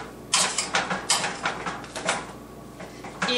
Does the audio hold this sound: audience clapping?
no